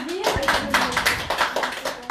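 An audience at a training event claps for an instructor, bursts of close handclaps coming in loose pulses while a voice speaks over them.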